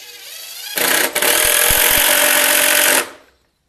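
Power driver sinking 2.5-inch deck screws to mount caster wheels onto the stretchers of a pallet lumber cart, one loud close continuous motor whine that rises sharply, holds for about two seconds with a brief dip, then cuts off.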